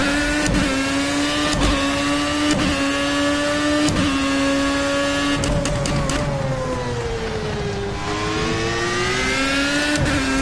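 A Formula A race car in Project CARS sings with a loud, high-pitched engine that stays close throughout, its pitch sliding up and down as the throttle is worked through a corner, broken by sharp gearshift blips and a dip while braking.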